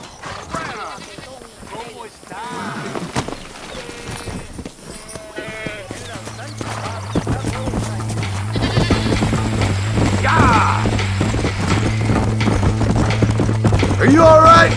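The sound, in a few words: horse hooves in the video game Red Dead Redemption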